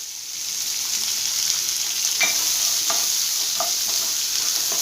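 Chopped onion and grated ginger fry in a pan for semiya upma, giving a steady, fairly loud sizzle throughout, with a few brief clicks of a spoon stirring in the middle.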